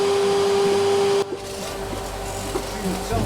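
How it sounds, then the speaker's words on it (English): A hoover dust extractor hooked to a sander thicknesser in a workshop: a steady motor drone with a sharp tonal whine that drops and changes character partway through as the extractor kicks in and settles into a rushing airflow hum. "When the hoover starts up,"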